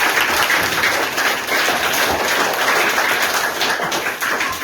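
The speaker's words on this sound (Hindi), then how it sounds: "मेरा पूरा गांव और गांव के वासी एक बार जोरदार ताली बजा के इनका स्वागत" Villagers at a government school clapping together in loud, sustained applause, dense and continuous throughout with no voices.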